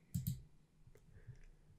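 A computer mouse clicks while working in Vectric V11 design software: two quick, close clicks at the start, then a few faint, softer ticks in a quiet room.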